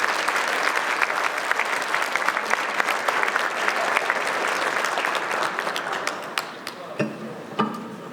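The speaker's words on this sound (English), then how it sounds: "A round of applause for Bakari Sellers." A crowd at a men of color luncheon breaks into loud, continuous applause, many hands clapping together before the sound thins out and fades to scattered claps near the end.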